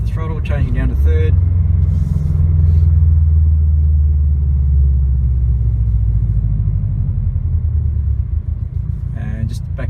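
2017 Subaru WRX STI with an Invidia R400 cat-back exhaust lifting off the throttle and downshifting to third, a loud, close, low rumbling drone that holds steady and then drops away, with short mechanical clicks at the start and end.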